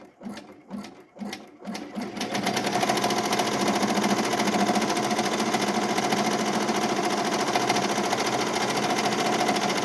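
An embroidery machine stitching the tracing outline for a glitter heat-transfer vinyl appliqué starts with a few separate thumps, then settles into a loud, steady, rapid mechanical chatter that runs continuously up close.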